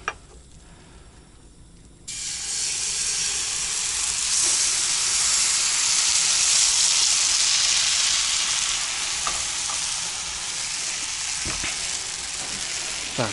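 Pancake batter hits a hot thin frying pan in a winter taiga cabin, bursting into a loud, steady close sizzle after a couple of quiet seconds and continuing throughout.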